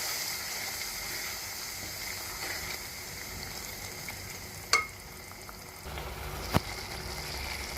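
Tomatoes and green chillies being stirred into oily frying masala for a desi-style green bean keema, a steady close sizzle throughout with a couple of sharp spoon or pan knocks.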